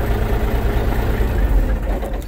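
A 1983 Mack truck's heavy diesel engine idling close by, a deep, steady, rumbling throb that holds even throughout.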